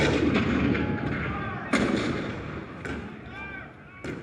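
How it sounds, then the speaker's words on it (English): Cannon fire sound effect depicting Fort Sumter in the Hall of Presidents show at Magic Kingdom, several booming blasts spaced apart with rumbling reverberation under a continuous dramatic background. "The cannon spoke for war, bitter, violent, and devastating."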